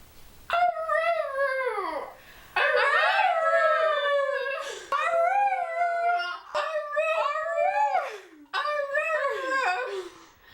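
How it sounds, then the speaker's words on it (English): A dog howls in drawn-out, wavering, voice-like phrases, several long howls with short breaks between, loud and close with no talking. "Dog saying I love you."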